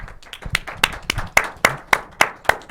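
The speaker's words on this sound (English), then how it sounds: "I just want to give a round of applause" A few people clap in a brief round of applause at a Staten Island soccer gathering, with about nine sharp, separate claps coming at an uneven pace, close and fairly loud.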